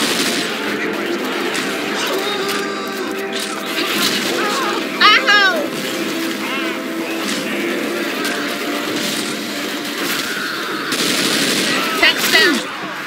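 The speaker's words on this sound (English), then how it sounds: "someone's shooting zombies" Rapid gunfire rattles continuously as survivors shoot zombies in the video game Left 4 Dead 2, bursts layered over game noise while players talk over it.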